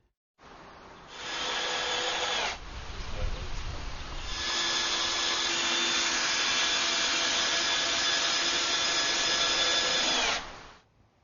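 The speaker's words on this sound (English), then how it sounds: "The rafters are then secured to the purlin with one SPAX high-force 8x240 each." SPAX high-force 8x240 screws are driven through timber pergola rafters into a purlin with a power driver, producing two long, steady whirring bursts separated by a short pause.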